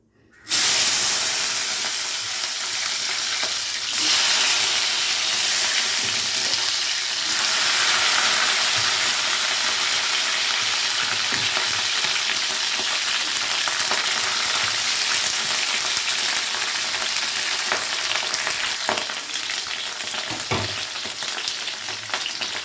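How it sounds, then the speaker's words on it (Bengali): Okra frying in hot oil in a pan: a loud, steady sizzling hiss starts abruptly and runs throughout, with occasional faint crackles and pops close by. "এবারে তেলের মধ্যে ভেন্ডিগুলোকে দিয়ে হালকা করে ভেজে নেব"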